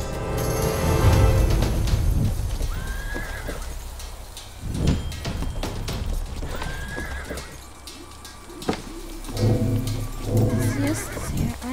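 Horse neighing in the video game Grim Legends: The Forsaken Bride, loud repeated whinnies and snorts near a carriage, with clip-clopping hooves and stamping between calls and no speech.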